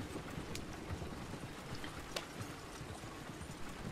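Horse hooves clip-clopping in Red Dead Redemption II, a steady stream of muffled hoofbeats under a dense, noisy rain-like wash of game ambience.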